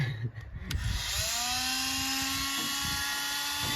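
A Dremel rotary tool spins up and bites into rusty body metal on a 1973 VW Karmann Ghia or Beetle, a close, loud high-pitched whine that holds steady with slight pitch shifts as it cuts.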